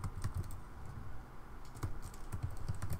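Quick bursts of keystrokes on a computer keyboard as custom text is typed, an irregular close-up patter with brief pauses, no voices.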